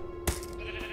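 A sheep in Minecraft Story Mode gives a single short bleat over a steady low background hum.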